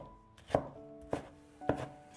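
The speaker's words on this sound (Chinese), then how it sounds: "再将西红柿切成厚片，然后改刀切成长条， 最后切成小碎丁" A knife dices a tomato on a cutting board in three distinct, evenly spaced chops, each a crisp, close thud against the board with quiet pauses between.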